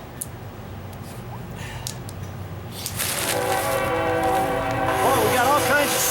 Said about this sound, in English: We're in a construction zone, a train zone.